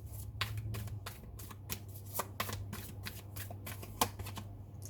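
A tarot deck is shuffled by hand up close, a quick irregular run of crisp card riffles and slaps with a few sharper snaps, steady low hum beneath and no speech.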